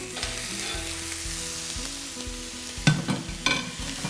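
A pound of ground pork sizzles steadily in a frying pan, close up, with a low thump, scrape and spoon stirring near the end.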